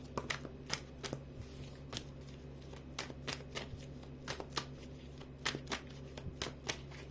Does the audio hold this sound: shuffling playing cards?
yes